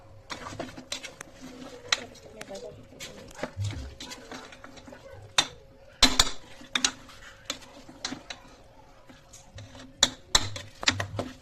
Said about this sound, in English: I'm gonna add in the rice. I'm gonna stir it.